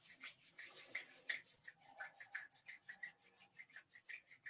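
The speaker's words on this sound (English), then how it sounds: "Let's rub our hands together." Two hands rubbing briskly together in a steady back-and-forth rhythm, a close, soft rasping swish repeating about four times per second with no talking.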